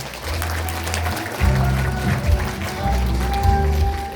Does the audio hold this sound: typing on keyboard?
no